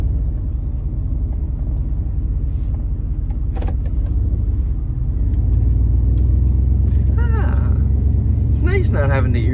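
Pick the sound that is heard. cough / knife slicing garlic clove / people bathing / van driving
van driving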